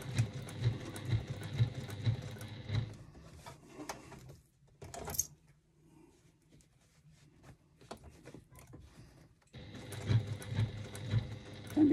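A sewing machine stitches binding onto fabric in fast rhythmic bursts, whirring steadily before pausing for a quiet stretch with small handling noises, then starting up again.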